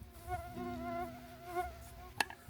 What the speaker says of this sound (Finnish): Hyi sookeli, näitä hyttysiä on paljon.